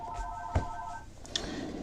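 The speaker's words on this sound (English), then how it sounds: "my phone is ringing" A phone ringing, a quiet electronic ring tone with a couple of tonal pulses and a soft knock, faint and brief, no voices.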